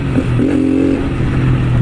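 A Honda motorcycle engine, due for an oil change, idles roughly and then revs up in a quick rising whine before dropping back to a steady, close, loud rumble.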